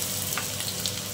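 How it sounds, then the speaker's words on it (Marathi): Garlic sizzling in five to six spoons of hot oil, a close, dense crackling hiss with small popping flickers, steady throughout and without any talking. "5 ते 6 चमचे तेल घालून घेतलेलं आहे आणि त्यामध्ये हा लसूण घालून घेते."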